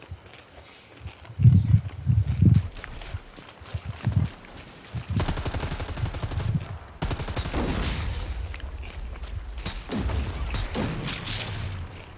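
Video game gunfire cracks out in loud bursts of shots, echoing booms and rapid fire. A sniper is firing in the exchange. Thumping footstep-like sounds come early on, and there is no talking.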